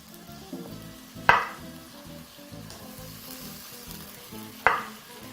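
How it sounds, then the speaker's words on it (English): Banana chunks for a matoke stew with meat and spinach frying in a pan, a quiet steady sizzle broken by two sharp louder spatters or stirring clatters. "We're also going to be incorporating our bananas, so we're just gonna add them in now"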